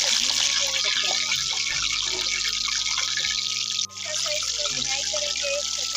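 Cumin seeds and black peppercorns hit hot ghee in a pan and sizzle with a steady crackling hiss, close and even, while tonal background music runs underneath.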